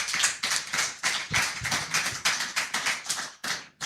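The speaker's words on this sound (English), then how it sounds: "a round of applause for Abiodun," An audience at a Lagos housing and capital forum breaks into applause, a dense, steady burst of many hands clapping close and loud for nearly four seconds before it starts to fade.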